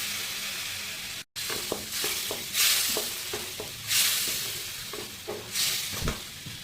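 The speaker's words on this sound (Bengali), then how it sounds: "দিয়ে ভালো করে কষে নেবো। আস্তে আস্তে আস্তে আস্তে কষে নেবো এটাকে।" Curry base stir-fried slowly with turmeric and chili powder, a loud continuous sizzle that swells in hissing waves, with the spatula scraping the pan at a regular pace and one brief dropout.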